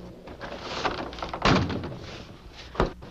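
A door swings shut with a solid thunk amid room tone in a cabin on a frigid night out in the bush, followed by a second, softer knock near the end.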